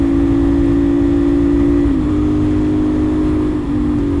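A 450SR motorcycle engine drones steadily and loudly while being ridden, holding a near-constant pitch with two slight dips as the throttle eases, with wind rush beneath and no talk.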